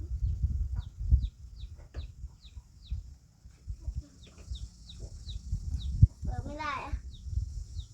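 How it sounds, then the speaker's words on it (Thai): Chickens clucking on a rural Thai farm, repeated short calls and a louder squawk near the end, mixed with people talking and rustling in the background. "ไก่เอ้ย"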